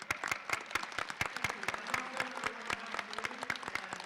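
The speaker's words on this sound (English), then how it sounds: "Please, a round of applause for the panelists and Senator Elizabeth Warren." An audience at a Native American presidential forum with Senator Elizabeth Warren bursts into applause for the panelists, a dense, sustained clatter of many hands at moderate distance with a few faint voices.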